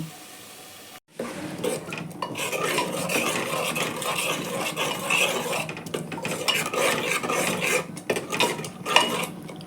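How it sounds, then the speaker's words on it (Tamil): Chicken sizzles in a hot pan while a utensil scrapes and stirs repeatedly, with metallic clinks and a steady frying hiss throughout. "சிக்கனை போட்டு வதக்கிக்கலாம்"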